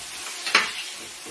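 Mixed vegetables frying with egg and king prawns in a pan hiss steadily while a utensil stirs them, one brief scraping swish standing out midway; close and without speech.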